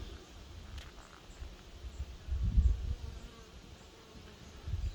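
Bees buzz around farm hives in a soft, continuous drone that swells briefly louder midway as one passes close, with no talking.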